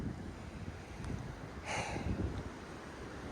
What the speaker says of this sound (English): I'm gonna stand back here in case this gust of wind tries to blow me off